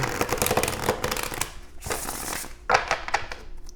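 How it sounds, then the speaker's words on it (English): Tarot and oracle cards, a Gilded Tarot deck and an Angel Answers Oracle deck, are shuffled close up in quick riffling bursts separated by short pauses. "Let's go and get one more shuffle in here for you"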